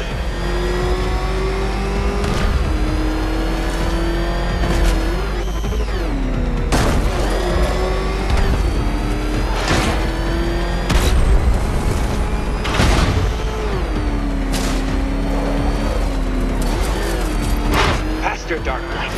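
Batmobile engine racing in Batman Arkham Knight, roaring and revving continuously with rising and falling pitch as it accelerates, punctuated by booms and impacts, with a villain's voice taunting over it.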